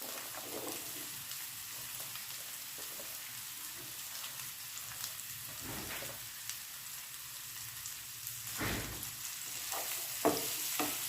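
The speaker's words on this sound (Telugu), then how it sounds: "ఇప్పుడు ఇందులో క్యాప్సికమ్ వేసుకొని అంతా కలిసేటట్టు కలుపుకోవాలి." Capsicum pieces are stirred into frying egg curry, with a steady soft sizzle and occasional scraping of the spoon against the pan; the sound is fairly quiet and close, with no talking.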